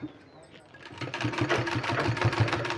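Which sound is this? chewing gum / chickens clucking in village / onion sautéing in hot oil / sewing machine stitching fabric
sewing machine stitching fabric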